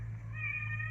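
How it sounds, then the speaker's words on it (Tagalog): A cat meows once inside a room at a farm stay in Lipa, Batangas, a short, fairly faint tonal call over a steady low hum. "Nakapasok yung pusa dito."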